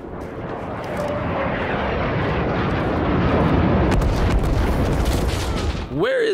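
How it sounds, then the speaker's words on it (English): A napalm air strike in the Vietnam War video game Rising Storm 2: Vietnam, a loud, sustained roaring rush of jet and fire that swells for several seconds and ends with a sharp whistling sweep. "Napalm inbound."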